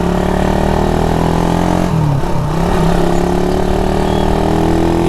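A Suzuki Raider 150 motorcycle fitted with a big-elbow exhaust, with a damaged piston, idles loudly and close by. The steady rumble dips briefly midway before settling back to an even roar.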